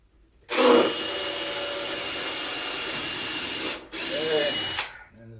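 A power drill whirs loudly in two bursts while building a vinyl record shelf, a long steady run, a brief pause, then a shorter run before stopping.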